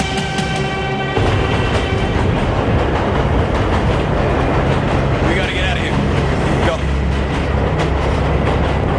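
A train rumbles along the tracks with a steady mechanical roar and rhythmic clatter, loud and close, while voices shout briefly over it.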